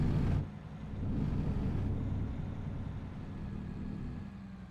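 Engine drone of a 429X truck in American Truck Simulator, a steady low rumble at moderate level with slight swells, no voices.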